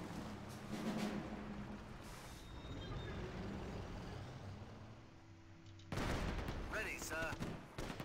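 Gunfire in the Axis & Allies (2004) strategy game: a rattle of distant shots under dense battle ambience, then a louder burst of firing toward the end.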